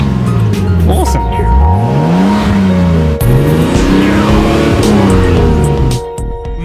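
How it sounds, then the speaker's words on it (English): A car engine with a newly fitted shift light is revved hard up and down twice, loud and close, its pitch sweeping high then falling back before dropping to a quieter idle at the end. "now I'll give it a rev"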